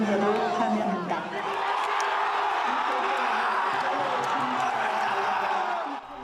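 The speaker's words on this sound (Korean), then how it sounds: "환호와 박수 속에 부부젤라 소리가 거리를 가득 메웁니다" A street crowd outside the Constitutional Court erupts at a presidential impeachment ruling, a dense wash of cheering, whoops and applause with scattered shrill vuvuzela blasts, steady and loud throughout, with a news reporter's voice narrating over it.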